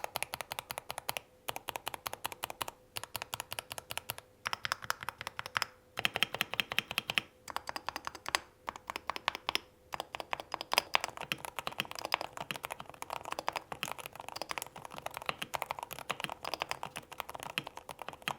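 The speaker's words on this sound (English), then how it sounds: "This keyboard has this awesome like thwack sound." Close, crisp typing on a hall-effect gaming keyboard in quick bursts of keystrokes with brief pauses, each press a sharp clack, no talking.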